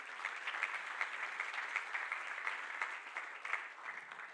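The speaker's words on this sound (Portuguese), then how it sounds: "Quem pode dar uma salva de palmas ao Senhor?" Congregation applause at a church conference in Portugal, a steady wash of many hands clapping from moderately far away, sustained and even throughout with no talk.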